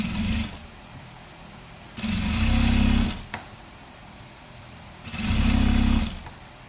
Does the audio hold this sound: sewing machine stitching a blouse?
yes